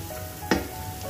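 Beef with chili and coriander powder sizzles steadily in a pan for Kerala-style beef curry with raw banana, with one short clatter midway. No voices.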